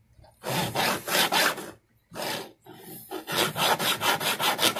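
A hand file strokes across the ends of guitar frets to bevel them at a 35-degree angle, with steady rhythmic rasping passes: a few separate strokes, then a quicker run of evenly spaced scrapes, loud and close with no talking.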